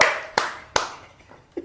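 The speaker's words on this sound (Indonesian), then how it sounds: "Tepuk tangan dulu, tepuk tangan." A few separate hand claps ring out sharply, three distinct strikes spaced evenly, then fainter scattered taps trailing off, close and dry, as a small podcast audience is urged to applaud.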